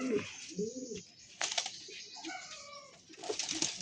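Close, soft cooing from Madrasi highflyer pigeons rises and falls in several short phrases, mixed with brief fluttering and light rustling nearby.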